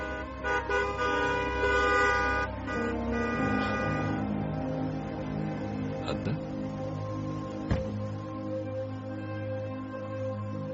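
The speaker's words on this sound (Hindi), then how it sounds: "लोग हॉर्न बजा रहे हैं" Car horns honk insistently in traffic, with loud overlapping blasts at first that settle into a steady drone. A couple of sharp knocks cut through as the honking eases, and there is no speech.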